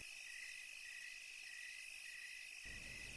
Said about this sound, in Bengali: বাইরে ঝিঝি পোকাদের ডাক ছাড়া আর কিছুই কানে আসছে না।